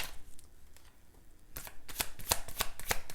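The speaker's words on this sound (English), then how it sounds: "When it's super thick like this, it's really hard to shuffle them, but I'm going to try." A thick deck of tarot cards being shuffled close up, soft rustling at first, then a run of sharp riffling slaps and card clicks in quick succession.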